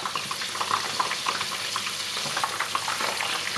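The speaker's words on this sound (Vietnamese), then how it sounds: "Và chiên từ từ cho đến khi vàng nha." Vietnamese lemongrass pork sausage fries in a pan with a continuous, close, crackling sizzle and scattered popping spatters, steady throughout with no voices.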